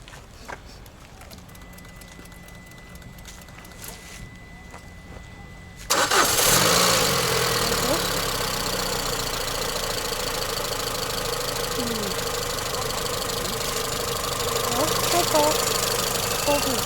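A Peugeot 307 with an EW10J4 petrol engine under repair cranks and fires after several seconds of quiet background, then settles into a steady, fairly loud idle that runs on to the end.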